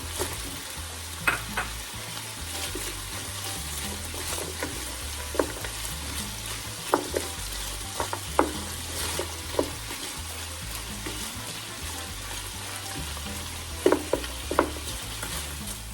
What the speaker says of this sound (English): So first, I'm gonna put the red onion.